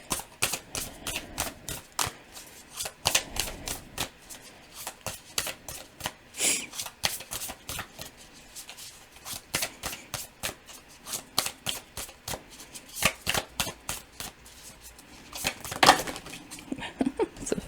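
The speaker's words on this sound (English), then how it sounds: "let's shuffle out of these ones" Deck of oracle cards being shuffled, a long run of rapid crisp riffling clicks and flutters in bursts, close and fairly quiet, with no talking.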